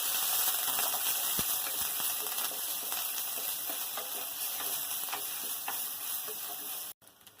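Onion paste hits hot oil already tempered with chili and garlic paste for a prawn curry, giving a loud, steady, close sizzle that holds evenly and then cuts off abruptly near the end.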